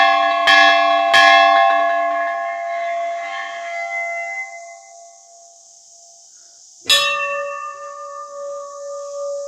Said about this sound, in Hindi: और यहाँ पर एक बड़ी सी घंटी है।